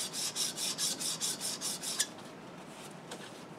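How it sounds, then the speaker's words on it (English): A plane iron from a Stanley No. 5 plane is rubbed back and forth on a 300 grit diamond stone wetted with Trend diamond lapping fluid, giving about nine rhythmic rasping strokes up close before stopping, with faint scrapes after. "I've been sharpening on this 300 grit diamond stone with this Trend diamond abrasive lapping fluid"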